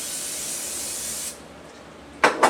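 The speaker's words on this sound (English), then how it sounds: "Spray it with olive oil, and I also like to spray it with Pam." Olive oil and Pam cooking spray hiss onto raw chicken: first a long, steady spray, then a quieter pause, then two short, sharp bursts close by.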